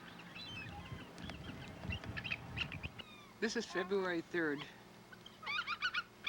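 Bald eagles gathered in large numbers at a winter feeding site in Homer, Alaska, give repeated high chittering calls in bursts, mixed with other bird cries, while a person speaks over them.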